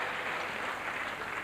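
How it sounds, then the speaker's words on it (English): A basketball crowd at a 1990 NBL game between the Adelaide 36ers and Newcastle Falcons applauds as Scott Ninnis leaves the court, a continuous roar of clapping with an announcer talking over it. "Scott Ninnis leaves again to applause from the crowd"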